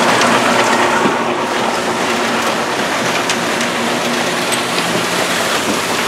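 Rotating trommel tumbling rocks of Worthington diamond mine ore at a recovery plant, a loud continuous rumbling churn with dense rattling of stones, constant and close.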